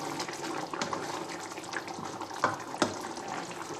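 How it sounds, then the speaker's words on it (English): Water poured from a kettle into a pan in a home kitchen, making a steady splashing, running-water sound close by with a couple of brief clinks, heard alone without talk. "we're going to add some water. Just a little bit. Don't pour the whole kettle in"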